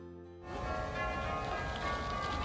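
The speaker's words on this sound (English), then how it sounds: "But St. Albans Bells beckoned us for its 10:30 service." Church bells of St. Alban's, the Episcopal church in Copenhagen, break in after a brief hush and ring on loud and sustained, their overlapping ringing tones filling the air.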